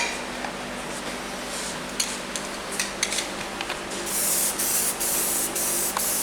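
Spray can coating the inside of a bell housing with flat black paint: soft hiss with small clicks and taps, then a loud continuous spray burst in the final two seconds.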